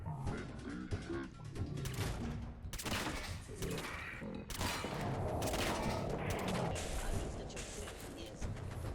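Gunfire against an enemy in Fallout 4 comes as a rapid, fairly faint volley of overlapping shots and blasts that continues throughout, with talk mixed in.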